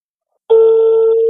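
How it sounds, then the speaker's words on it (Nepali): A telephone tone begins abruptly partway through and holds steady, loud and close, like a dial tone heard while redialing a number on a phone. "So let's dial again."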